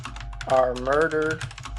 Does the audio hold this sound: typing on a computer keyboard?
yes